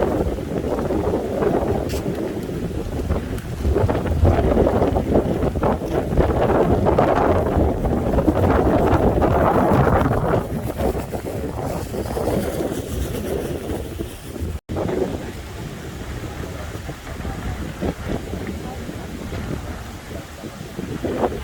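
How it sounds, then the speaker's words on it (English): Strong wind on a beach buffets the microphone in a continuous loud roar, rising and falling in gusts with a surf-like wash underneath, and no voices. "a lot of wind over here"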